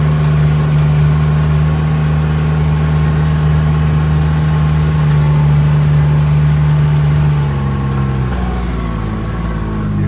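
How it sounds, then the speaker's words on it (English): A 2021 Kubota RTV X1140 utility vehicle engine-brakes on a downhill run, with a loud, steady, droning engine note that shifts slightly in pitch near the end, close and continuous without talk. "You hear that engine braking?"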